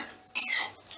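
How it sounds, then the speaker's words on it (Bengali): A spoon scraping and stirring whole cumin seeds and a bay leaf tempering in oil in a pan over low gas, a single sudden close metallic scrape and clink followed by a faint sizzle, brief and alone. "এবারে গ্যাসের আঁচটা একদম লোতে করে দিয়ে ফোড়নটাকে একটু নাড়াচাড়া করে নেব"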